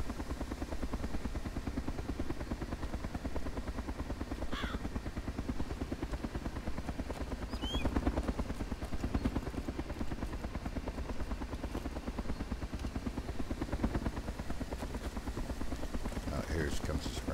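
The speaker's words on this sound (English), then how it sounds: "Somebody's spooling up a Mozzie." Minicopter helicopter spooling up in a video game, a steady rapid chopping thrum that continues throughout, with faint talk and a few brief sharp sounds over it.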